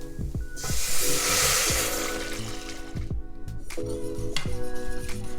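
Broth pours into a flour and butter roux for gravy, a close rush of liquid with a splash, followed by clinks and scrapes of a utensil against the pan.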